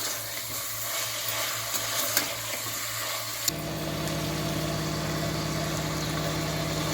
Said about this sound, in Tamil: சிக்கன் 2 நிமிஷம் ஆயிலே நல்லா வதங்கிச்சு பாருங்க.